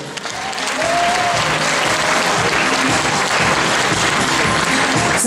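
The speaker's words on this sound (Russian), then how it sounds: "Ваши аплодисменты." An audience applauds at the opening ceremony of a Russian vocal competition, clapping swelling within the first second into loud, sustained, dense applause that holds steady throughout.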